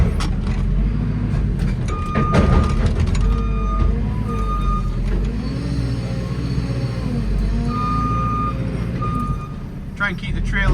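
John Deere 6930 tractor on a farm, working with a TM320S machine, a deep diesel rumble with steady repeating reversing beeps and some clanks, close and loud, while a person talks over it.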